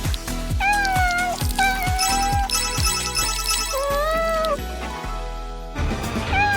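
A cat meows repeatedly in short, rising and falling calls over a steady electronic ringtone-like tune, close and clear with no talking.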